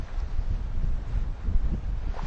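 Wind blowing over a sailboat at sea at about 20 knots, a steady low buffeting rush with gusty surges and microphone wind noise, fairly faint and with no voices.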